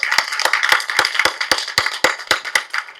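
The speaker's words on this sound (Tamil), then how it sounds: "ஒன்னா கைத்தட்டலாங்க" A crowd claps together in honour of a person receiving a title at a function, the steady applause loud and close for a few seconds, with sharp separate claps rising above the spread of hands.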